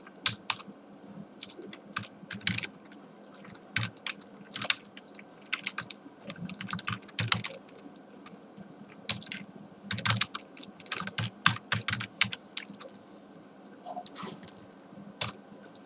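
Typing C printf code on a computer keyboard, a steady stream of close, crisp key clicks in irregular bursts and short pauses, with no talking.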